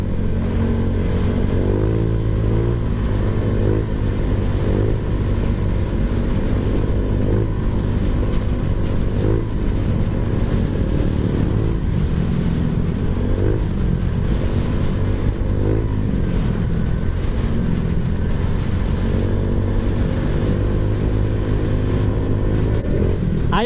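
A Honda Click 125/150 scooter engine fitted with a new Z5 camshaft idles and runs steadily at close range, with an even mechanical chugging that continues throughout without any talking.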